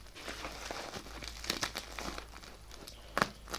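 Close-up crinkling and tearing of plastic packaging being opened on a set of fishing spoon lures, with scattered crackles and a few sharper rustling bursts.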